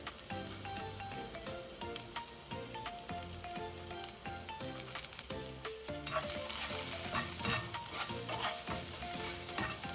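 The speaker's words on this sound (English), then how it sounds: "Saute the garlic." Garlic sautéing in hot oil in a pan for garlic pepper beef, a steady close crackling sizzle with occasional stirring scrapes, growing louder and brighter partway through.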